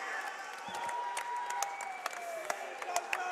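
Crowd at an MMA cage fight event applauding and cheering after a main event bout, a steady wash of clapping with scattered louder claps, heard from a distance under an announcer's voice.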